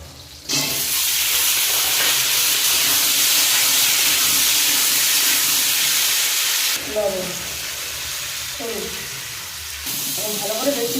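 Potatoes drop into a hot pan of spicy green tomato fish curry base and set off a loud, close sizzle with steaming hiss that holds steady, then eases into softer crackling with a few stirring clatters.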